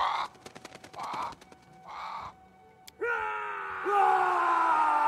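A crow in the Pathfinder: Kingmaker video game gives three harsh, evenly spaced caws, close and clear, followed by a sharp crack and a swelling droning tone.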